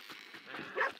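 A dog in the Red Dead Redemption video game lets out a single short, fairly quiet bark near the end, over a steady hiss of game ambience.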